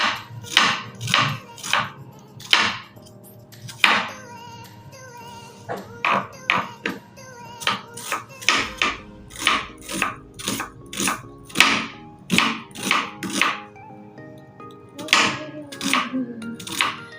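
Close, sharp chopping of vegetables on a board in a home kitchen, prepared for frying dal, with rapid bursts of knife strikes broken by short pauses over several seconds.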